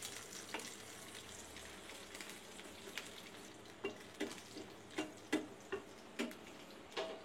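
Marinated pieces of a large Padma River catla fish fry gently over low heat in a pan, a faint steady sizzle broken by sharp crackling pops that grow more frequent toward the end.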